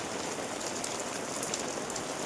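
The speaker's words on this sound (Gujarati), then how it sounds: "વરસાદ ફૂલ ચાલુ થઈ ગયો છે" Heavy monsoon rain pouring down during a storm in Gujarat, a steady, even hiss of drops drumming on surfaces without a break, moderately distant and with no voices.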